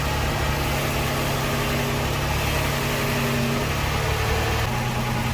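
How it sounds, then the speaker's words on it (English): A Toyota Tacoma pickup with a 3-inch lift and 33-inch tires idles close by, giving a steady, even low engine rumble with no talk over it. "So I'm going to turn the truck on real quick and then turn the wheel"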